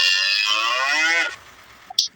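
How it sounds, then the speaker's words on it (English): A single drawn-out cow moo, loud and close, lasting just over a second before fading into near silence. "Cow."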